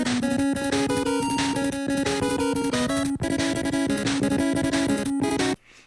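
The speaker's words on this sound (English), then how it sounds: "That's the Nintendo Entertainment System sound chip." Mega Man chiptune music from the NES sound chip plays loud and busy, with bright square-wave melody lines, a steady bass pattern and noisy percussion, cutting off abruptly near the end.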